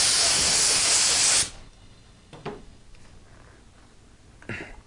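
Spray gun blasts Tri-Clean cleaner through its nozzle in a loud, steady hiss for about a second and a half, then cuts off, leaving quiet handling sounds and two brief faint puffs.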